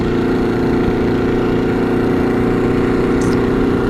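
A Honda Nighthawk motorcycle engine runs steadily at a close, even idle, a continuous low throbbing hum with no revving and no voices.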